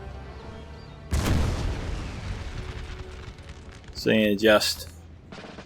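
Artillery and gunfire in Napoleon Total War, with a sudden loud boom and rumbling decay, followed later by a short burst of sharp crackling shots while someone talks briefly.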